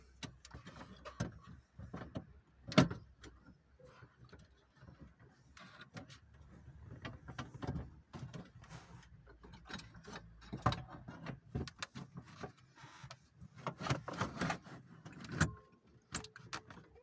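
A Bluetooth module is pushed back into the dashboard of a Fiat Fiorino-type car, giving close plastic clicks, rattles and scraping knocks in irregular bursts, with no talking.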